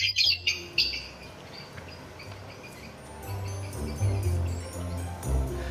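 Quick high chirps from lovebirds, clustered at the start and scattered later, over a steady low background hum.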